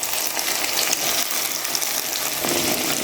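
Ground masala paste tipped into a pan of frying brinjal for a fish kuzhambu, a loud steady sizzle and crackle of oil held close throughout, without talk.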